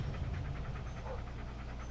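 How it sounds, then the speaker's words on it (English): A dog pants rhythmically in the Blair Witch video game, quick faint breaths repeating steadily over low background ambience. "This is Bullet, your right-hand dog."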